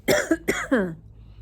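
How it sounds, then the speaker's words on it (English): Someone clears their throat nearby with several short, rough, voiced bursts, then quiet. "I'm going to clear my throat, excuse me."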